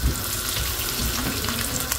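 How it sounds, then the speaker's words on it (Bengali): Spices frying and being stirred in a pan for a home-cooked lunch: a dense, steady sizzle fills the scene, with scraping stir sounds close by and no talk. "ভাজা হয়ে গেছে, এখন এখানে মশলাটা কষাবো আমি।"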